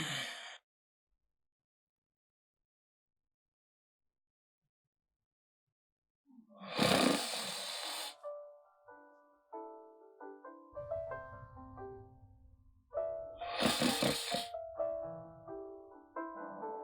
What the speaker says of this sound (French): Tu ronfles, tu me déranges.